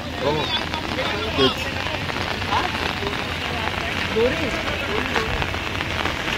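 Heavy rain pours down on flooded streets in Mumbai, a steady dense hiss of drops hitting water and surfaces, with faint voices murmuring beneath it.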